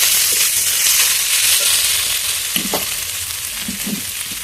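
Cabbage hitting a hot pan with boiled potato and carrot, a loud, dense hiss of frying that settles slightly, with a few soft stirring knocks near the end.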